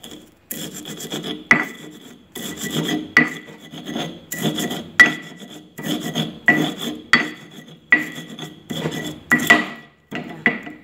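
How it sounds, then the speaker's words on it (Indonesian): Dried eggshells being crushed finer for garden use, a dry gritty rasping in repeated rhythmic strokes about a second apart, close and fairly loud with no talk. "ini masih kasar ya kita haluskan sedikit lagi"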